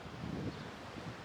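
Wind blows outdoors in the mountains, a steady broadband rush buffeting the microphone with low gusty swells, with no talking.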